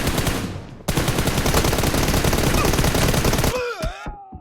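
Rapid automatic gunfire in a shooter video game team deathmatch rattles in dense, continuous bursts, then cuts off into a brief sweeping in-game effect.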